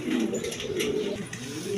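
A pair of pigeons at a pigeon sale gives a steady, continuous low cooing, close by and filling the whole stretch.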